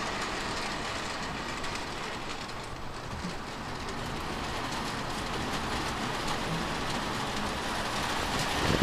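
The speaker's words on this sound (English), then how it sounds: "This is gonna operate that train, I believe. It's going to get loud" A Lionel Christmas model train runs around a home layout, a steady loud rumble of wheels and motor with faint clickety-clack over the track joints, continuous throughout with no voices.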